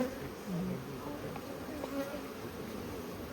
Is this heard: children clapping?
no